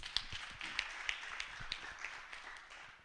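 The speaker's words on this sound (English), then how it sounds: "Please, let's clap for them one more time, please." Scattered, faint hand claps from a small audience at a Hult Prize pitch event sound as a few separate, uneven claps spread across a few seconds.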